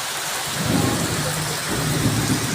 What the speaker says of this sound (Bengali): কত জোরে জোরে মেঘ ডাকছে।